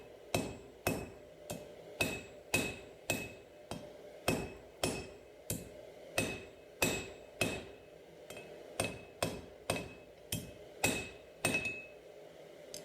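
A 3-pound cross-peen hammer forges a knife blade, striking in a steady, even rhythm of about twenty sharp, ringing blows, each followed by a brief decay, close and loud with no talk.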